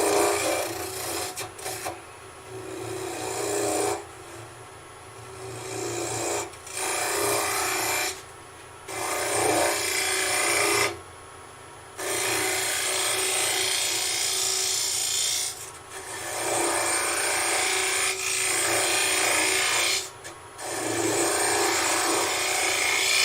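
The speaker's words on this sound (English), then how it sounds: "Little spindle gouge, just on centre, tool rest tad a bit high." A spindle gouge scrapes and rasps against spinning wood on a lathe in repeated passes, turning a tea light holder, with brief pauses of motor hum between cuts.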